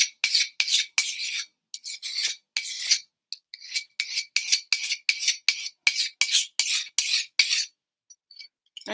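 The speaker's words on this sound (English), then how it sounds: "look at my knife sharpening skills" A knife is drawn repeatedly across a sharpener in quick rasping strokes, loud and close, with brief pauses between bursts and no voices.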